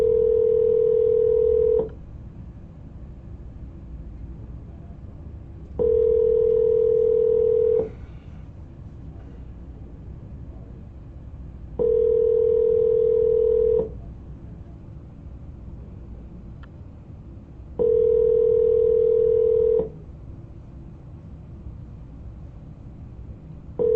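A telephone call rings while waiting for an answer, heard as four evenly spaced ringback tones. Each tone lasts about two seconds, separated by longer silences over a low background hum.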